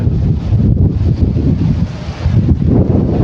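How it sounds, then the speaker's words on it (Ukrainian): Gusty wind in a flowering garden in late May batters the microphone in loud, rumbling surges that dip briefly and swell again. "і в мікрофон ви також чуєте ці пориви вітру"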